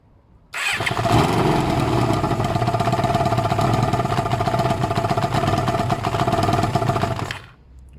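A Kawasaki ZL600 Eliminator motorcycle engine fires up after carburetor adjustment and runs at a loud, steady, slightly uneven idle close by for several seconds before cutting off.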